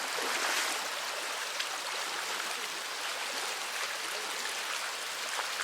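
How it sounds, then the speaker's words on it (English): A river in Madagascar flows steadily in a broad, even rush where it runs wide and shallow, a continuous gentle hiss of a stream with no voices. "the river calms. Water slows, wide and shallow"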